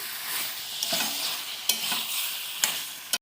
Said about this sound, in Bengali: এবারে গরম মশলাটাও দিয়ে দিলাম ভালো করে নেড়ে দিচ্ছি